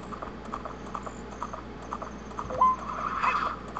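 Horse galloping across Hyrule Field in Ocarina of Time Master Quest, a soft steady patter of hoofbeats running throughout, with a brief chime and a swelling ghostly effect near the end.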